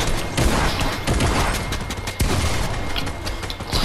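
Rapid gunfire erupts in a Fortnite match, loud dense volleys of shots and impacts crowding together for several seconds.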